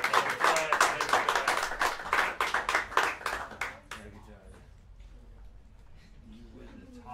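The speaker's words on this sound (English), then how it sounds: "have a one more round of applause for Todd Coolman and David Hazeltine" Audience clapping for jazz musicians Todd Coolman and David Hazeltine, a dense burst of claps for about four seconds that quickly fades, leaving faint room noise and a low voice.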